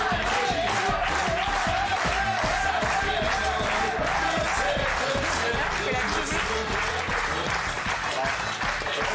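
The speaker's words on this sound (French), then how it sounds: "Applaudissements pour lui" A TV studio audience applauding a guest as he arrives, steady dense clapping that fills the room for several seconds, with crowd noise and some voices mixed in.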